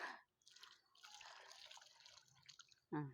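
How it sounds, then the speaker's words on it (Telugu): Water splashes and trickles in short bursts as it is poured onto a newly planted sapling, fairly close, with a brief pause before a final louder splash. "చూడండి ఎంత బాగా పోస్తున్నా నీళ్ళు"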